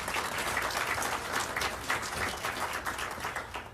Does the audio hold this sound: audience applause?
yes